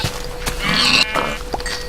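Sheep in the Minecraft video game give a short, close bleat, a wavering nasal cry lasting under a second amid faint game sounds.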